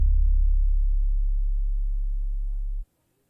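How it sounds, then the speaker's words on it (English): A deep, smooth, unprocessed bass tone with no effects sustains steadily for nearly three seconds, then cuts off abruptly into silence. "So I started off with this bass from Steven Avikis' kit called Think."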